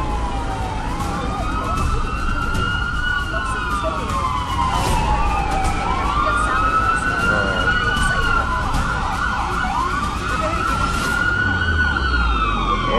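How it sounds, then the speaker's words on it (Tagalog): Several fire truck sirens wail and sweep up and down together, loud and continuous, with overlapping rising and falling tones as the engines approach through traffic noise. "Medyo delayed yung mga fire truck"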